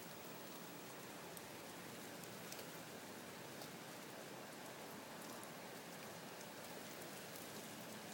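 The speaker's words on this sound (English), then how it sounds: "Is that how hard it's been raining?" Heavy rain falling steadily during a summer storm, a dense even hiss with scattered drop taps, faint and constant throughout.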